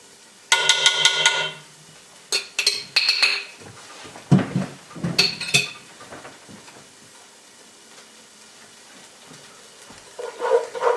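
A spoon scrapes and clinks against a pot as minced garlic is stirred into sautéed vegetables, with bursts of metallic clatter and soft sizzling, close and fairly loud, then quieter.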